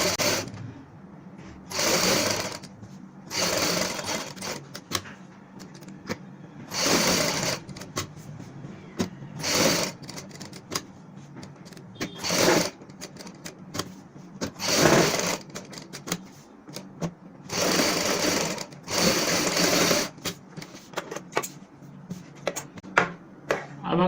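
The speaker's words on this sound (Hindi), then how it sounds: "यहाँ पे बुकरम के साथ साथ सिलाई लगाएंगे।" Sewing machine stitching buckram to the front of a high-neck kameez, loud close whirring bursts stopping and starting in a repeated rhythm across the stretch, with quieter gaps between runs.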